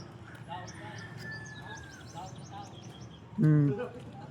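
A bird calls outdoors in short chirps and whistled notes amid a family flying a kite. People talk throughout, and a louder, harsher call stands out near the end.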